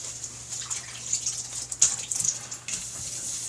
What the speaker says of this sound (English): I'm going to wet it down with some water.